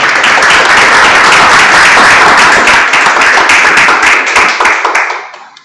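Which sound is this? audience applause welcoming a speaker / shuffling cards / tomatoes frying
audience applause welcoming a speaker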